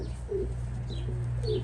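A racing pigeon, a yearling champion of a 700 km race, coos softly nearby in a few short, low throaty bursts, with faint chirps in between.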